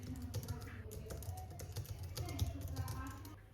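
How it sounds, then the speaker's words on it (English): Soft, steady keystrokes from a compact, quiet Logitech MX Keys Mini keyboard tap along evenly in a calm desk setting, faint and close throughout. "The Logitech MX Keys Mini is compact, quiet, and precise."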